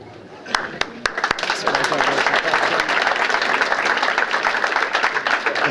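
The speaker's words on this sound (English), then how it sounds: "So round of applause for those who could not make it here today." Applause from an audience at a costume and armor presentation, opening with a few distinct claps that swell within about two seconds into loud, dense clapping mixed with crowd noise and voices.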